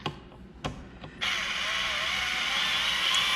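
A Bosch cordless driver gives a few sharp clutch clicks, then its motor settles into a steady, loud, close whirring whine that holds to the end.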